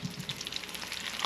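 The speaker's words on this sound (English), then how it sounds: "We've rolled all our egg rolls, and now we're deep frying them, and this is how they're coming out." Homemade egg rolls deep frying in hot oil, a steady close crackling sizzle with dense popping bubbles throughout and no talk.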